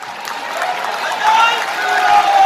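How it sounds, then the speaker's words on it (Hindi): A crowd at a public foundation-stone event in Jhansi applauds the Chief Minister, producing a diffuse, continuous roar of clapping that swells slightly toward the end, with voices mixed in. "एक बार सब अपने स्थान पर खड़े हुए जोरदार तालियां बजाइए"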